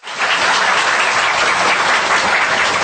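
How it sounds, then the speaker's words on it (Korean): A studio audience at a Korean talk show applauds two guests in a sustained, dense wash of clapping that starts abruptly and stays loud and even throughout. "자, 그러면 두 분께 박수 부탁드려요."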